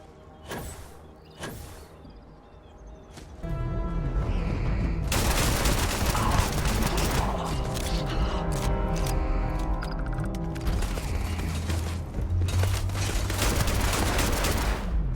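Gunfire in the sci-fi video game Starfield: a few separate shots early on, then a dense, loud, continuous volley of rapid fire and combat noise lasting about ten seconds.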